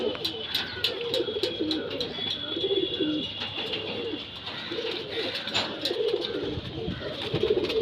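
A breeding pair of Chennai velu and Tara pigeons coos in close, repeated throaty phrases, with rhythmic soft calls running throughout over a faint background hiss.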